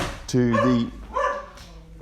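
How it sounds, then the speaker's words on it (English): A dog barks at a postman in an English home, two loud harmonic barks close by over a quiet room, with a voice talking briefly around them. "that's just the dog barking at the postman"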